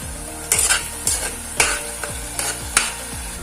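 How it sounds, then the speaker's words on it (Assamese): A spoon stirs fried rice in a pan just after soy sauce goes in, with several distinct scraping strokes at an uneven rhythm over a soft, steady sizzle, close and fairly loud, with no voices. "এতিয়া অকণমান লৰাই ল'ম"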